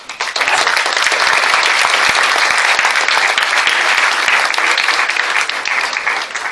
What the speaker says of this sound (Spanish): Despidamos a estos jóvenes voluntarios con un aplauso